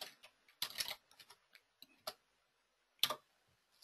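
Bursts of keyboard clicks from someone typing a search term on a computer keyboard, a quick cluster of taps then scattered single keystrokes, fairly close and quiet with no talk.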